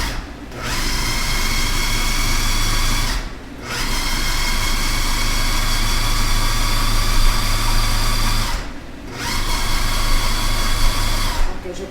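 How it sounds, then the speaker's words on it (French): A kitchen blender chopping tomatoes and onions for a salted cod sauce, running in a loud, steady whir that stops briefly twice before starting again. "Dans le blender, je vais mettre les tomates avec les oignons que je vais hacher"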